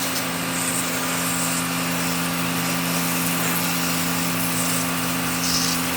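An AR Blue Clean 118 electric pressure washer sprays water with no chemicals, giving a steady, continuous hiss over a constant motor hum that holds level throughout, with no voices.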